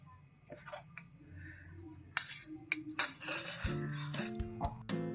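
Yellow food colouring being stirred into homemade tutti frutti gives a few light clinks and taps of a utensil against a bowl, close and fairly quiet, with a soft scraping bed beneath.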